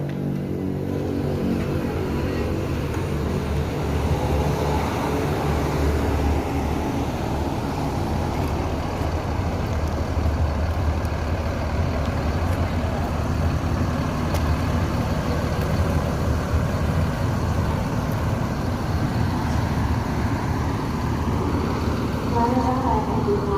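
An ANS passenger bus engine runs at a steady, continuous rumble at a roadside restaurant, with people talking over it throughout.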